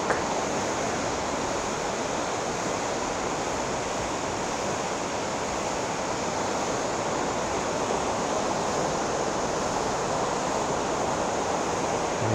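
Steady rushing water flows continuously without pause, a dense broadband wash of a fast-running creek over rocks, in Impasug-ong, Bukidnon, Philippines.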